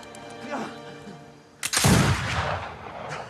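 A single loud gunshot from a scene in the TV show Outlander, a sharp crack followed by a booming echo and rumble, after a quiet stretch of murmured voices.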